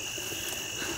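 A toad croaks close by in an outdoor hunting setting, a steady low calling with a louder croak near the end, over a quiet background hum.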